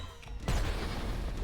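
Explosions in the video game ULTRAKILL: a sudden loud blast bursts in partway through, then a sustained rumbling, crackling roar of booms and debris fills the rest.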